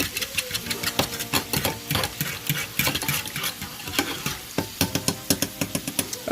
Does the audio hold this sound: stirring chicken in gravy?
yes